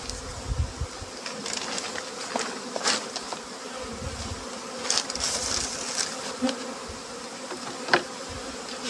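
Dense swarm of honeybees buzzing around a wild honeycomb as honey is harvested, a steady close drone with individual bees whizzing past the microphone, no voices.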